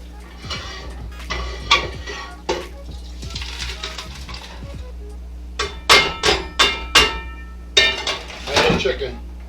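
Metal pots clank and scrape in a series of sharp knocks while chicken jambalaya is moved from one cooking pot to another, with a steady hum beneath and quiet talk in between.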